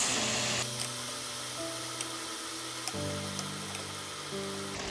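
Tonjiru ingredients sizzling as they stir-fry in a pan, with miso stirred through: a steady, bright frying hiss that runs throughout, with occasional soft stirring scrapes and a faint background tone.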